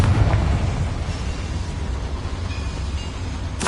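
Blasting-spell explosion in a video game, a heavy, sustained roaring rumble that opens with a punchy burst and keeps churning at high level, with a sharp crack near the end.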